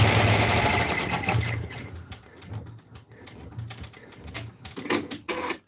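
Embroidery machine stitching a raccoon stuffed toy in the hoop, a loud steady needle whir that breaks into slower, uneven stitching bursts and clicks.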